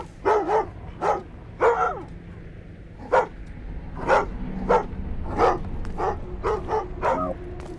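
Guard dog barking in the video game Thief: a long run of sharp, close barks in uneven clusters, some in quick pairs, others spaced apart, over a faint low background hum.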